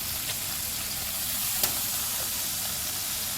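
Meat browning in a pan for Korean jjajangmyeon gives a steady, fairly quiet sizzle and hiss throughout, with one small sharp crackle partway through and no talk.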